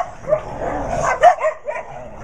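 Several excited pet dogs bark and yip in a rapid, overlapping burst, close and loud in a lively household scene.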